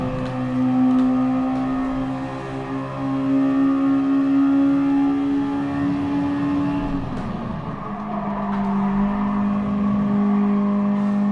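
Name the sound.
Mazda Roadster engine accelerating at Laguna Seca, racing video game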